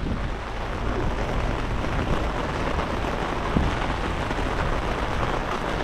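Heavy rain pours at sea beside fishing boats, a dense, even roar of drops hitting water with a faint low rumble and a single small knock, unbroken and without voices.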